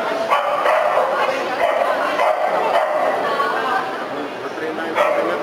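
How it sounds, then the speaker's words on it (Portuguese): A dog barks and yips repeatedly on command at close range during a dog-training demonstration, mixed with whimpers, while people talk over it. "Ela pediu para ele latir e ele late."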